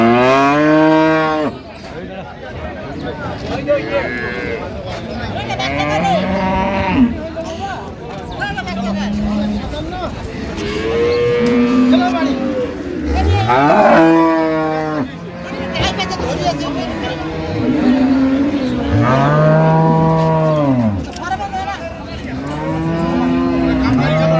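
Dairy cows and calves at a busy livestock market in Dinajpur, repeated loud moos and bellows from several animals close by, with people talking and bargaining in the background.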